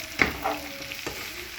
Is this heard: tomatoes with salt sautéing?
yes